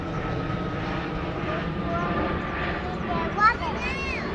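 An airplane drones overhead as a steady, broad engine rumble that holds at a moderate distance throughout, with children's and adults' voices chattering faintly beneath it and a brief louder voice near the end.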